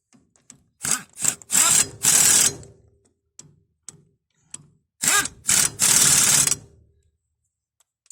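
A large AEROPRO pneumatic impact wrench fires in short loud hammering bursts while unscrewing a nut, with two clusters of bursts separated by quiet pauses and small clicks.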